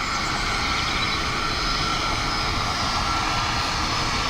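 Airbus A321neo taking off at Dublin Airport on a windy, wet day, a loud, sustained jet engine roar with broadband rushing noise that holds steady and close throughout, with no voices.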